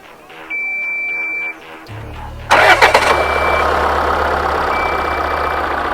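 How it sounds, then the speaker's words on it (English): A car engine is cranked with a portable jump starter: a short, loud burst of cranking close by catches, and the engine settles into a steady running idle. "Let's try to crank the engine,"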